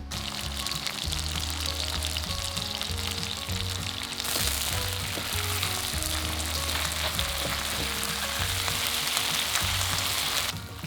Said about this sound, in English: cook the beef for about 5 minutes without turning, and don't keep moving it around the pan all the time